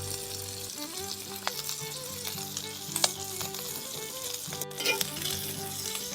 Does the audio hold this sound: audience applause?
no